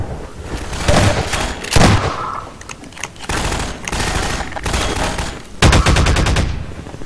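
Half-Life 2 firefight against Combine soldiers: loud bursts of automatic and single gunshots crack and boom repeatedly in irregular clusters, with echoing tails and gunfire filling nearly the whole stretch.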